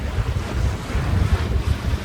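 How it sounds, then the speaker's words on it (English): Steady wind roars over open sea aboard a sailboat heading toward Great Keppel Island as the breeze builds to about 10 knots gusting 15, a continuous low rumble of wind noise and surf with no voices. "It's going to blow hard this afternoon, starting to build now."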